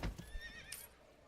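In the Manor Lords medieval city-building game, a horse gives a quiet, brief whinny, preceded by a couple of soft hoof clops.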